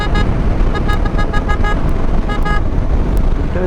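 Vehicles pass on the Mumbai–Goa highway at night under a constant roadway rumble, while a horn gives a string of short, bright toots, some in quick pairs, close by and loud.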